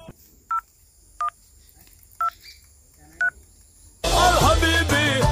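A phone number is dialed as four short, evenly spaced keypad tones, clear and close over quiet background, then a burst of loud music or noise.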